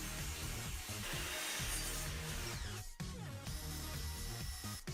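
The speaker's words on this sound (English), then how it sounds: "I cut it out of a piece of 3/4 inch plywood." A saw cutting a 3/4 inch plywood mounting plate: continuous, loud, harsh cutting with a short break midway before it resumes.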